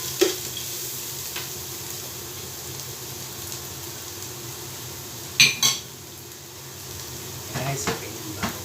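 Garlic fries in a pan with a steady soft sizzle, interrupted by a few sharp clinks of a utensil against the pan and some stirring, with talk in the background.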